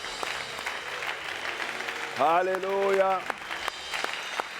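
A church congregation claps and cheers to acclaim the Lord, a dense wash of applause with a voice loudly calling out in a drawn-out sung shout midway.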